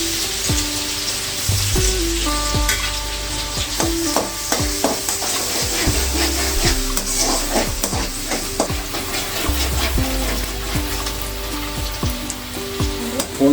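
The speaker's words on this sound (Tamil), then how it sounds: "சாப் பண்ணி வச்சுக்கிற பூண்டை போட்டுக்கலாம்." Chopped garlic fries in sunflower oil in a pan for spaghetti, a close, steady sizzle with crackles and scraping stirs throughout, no voices.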